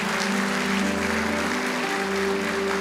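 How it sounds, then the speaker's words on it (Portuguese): Church congregation applause, a soft, continuous patter of clapping that blends under sustained organ-like musical tones throughout. "Dá uma salva de palmas para Jesus Cristo."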